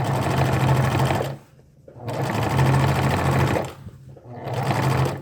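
A sewing machine topstitches along the inner facing of a skirt waistband in close, loud bursts of rapid stitching, with two short pauses between runs.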